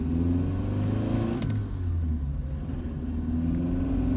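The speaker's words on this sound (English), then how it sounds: "Oh, this little V4 sounds magnificent." A Lancia with a small V4 engine accelerating on the Goodwood circuit during a club track day, giving a steady, loud, buzzing drone heard from inside the car that dips briefly with a gear change.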